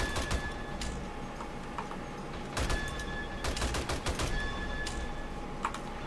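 Automatic turrets in 7 Days to Die fire in several rapid bursts of sharp, clattering shots, with short gaps between volleys, moderately loud and with no voice over them.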